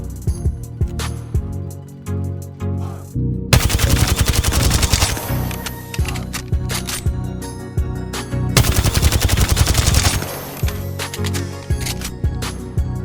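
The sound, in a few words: Volt SMG gunfire in video game Apex Legends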